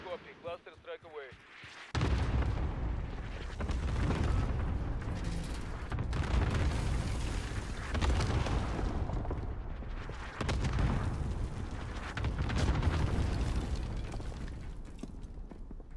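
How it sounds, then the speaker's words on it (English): Cluster strike explosions in a video game, a series of heavy, rumbling blasts arriving in overlapping waves after a brief quiet beeping lead-in, loud and booming with long reverberant tails, a voice talking over parts of it. "Cluster strike is go for launch."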